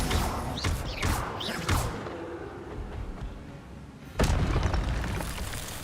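Spell impacts from a wizard duel in the Hogwarts Legacy video game, Incendio and Expelliarmus, burst as a few sharp blasts early on, then a heavier booming hit near the end, loud and close over a steady game background.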